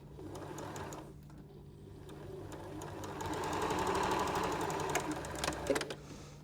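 A sewing machine stitches seams on an arrowhead star quilt block through thick layers of fabric, a close, rapid mechanical whirr that pauses briefly and then runs steadily, ending in a few louder clunks.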